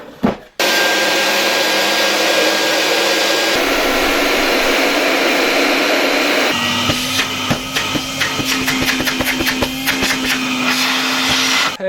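Queen Lux Turbo-Jet vacuum cleaner motor running on a 24 V supply, a loud steady whirring drone that shifts pitch partway through and turns rougher with rapid rattling pulses near the end.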